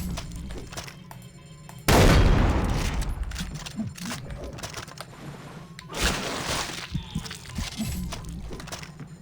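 A Terror 4000 gun in a video game fires four rounds at once, a loud sudden boom followed by a long decaying roar, then a second heavy blast amid scattered clicks and crackles.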